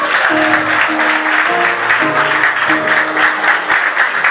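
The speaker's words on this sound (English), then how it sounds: "Clap for yourself." Audience at a youth seminar clapping, steady massed clapping with voices or tones mixed in underneath, fairly loud and even throughout.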